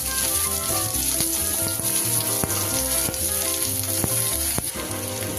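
Two medium onions, chopped, fry in mustard oil in a pan. A steady loud sizzle runs throughout with no talk, broken by occasional sharp clicks of a utensil.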